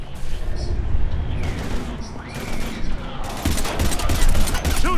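Heavy gunfire in Mass Effect 3 during the fall of Earth, dense bursts of rapid shots and explosive booms layered in a chaotic firefight, with voices calling out over the noise.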